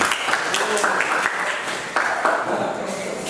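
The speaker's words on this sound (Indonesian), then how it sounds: "Tepuk tangan dulu." A brief burst of applause rises from students in an automotive engineering classroom as a second-place prize is handed out, a short, dense patter of clapping with some voices mixed in.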